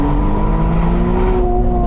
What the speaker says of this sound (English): improve the engine note at mid and high revs